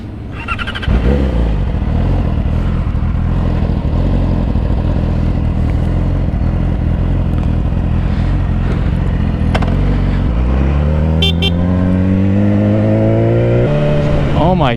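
A Yamaha R6 motorcycle and a Nissan 370Z sports car rev against each other up close, a loud sustained engine drone that swells and climbs sharply in pitch near the end, with brief clatter mixed in.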